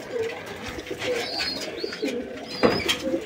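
A pigeon in poor health coos in soft repeated phrases, fairly close, with small background rustles and a brief knock near the end.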